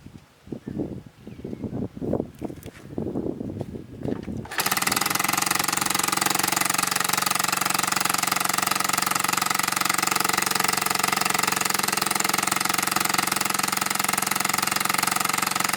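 Vintage Honda Z50 mini trail bike engine with the choke on: a few soft kick-start pulses, then it fires and settles into a loud, steady, rattly idle that runs without a break to the end.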